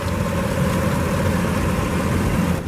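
A 2019 GMC Yukon SLT 4WD with a 5.3-liter V8 idles steadily nearby, a low, smooth, continuous rumble with no speech.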